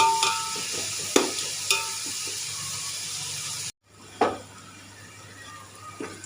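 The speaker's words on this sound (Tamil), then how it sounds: "வெங்காயம் நல்லா வதங்கட்டும்" Onions sautéing in a pan for chicken biryani, a steady close sizzle with sharp scraping stirs from a spatula, briefly cutting out midway before resuming.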